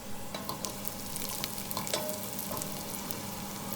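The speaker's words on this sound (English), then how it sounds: "It's vegetable oil, and I'm just frying them, the onions." Finely chopped red onions sizzle and crackle in hot vegetable oil, with occasional stirring scrapes and sharp pops over a steady frying hiss, close by.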